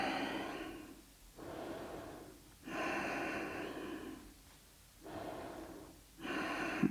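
Slow, steady breathing through a yoga pose, several long inhales and exhales alternating in an even rhythm, close and fairly soft, with no talking.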